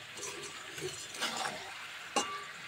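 Chicken with salt and bay leaves being stir-fried in a pan, a faint continuous sizzle broken by soft scraping strokes and one sharp clink of the spoon against the pan.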